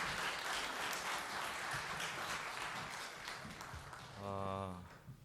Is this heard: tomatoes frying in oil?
no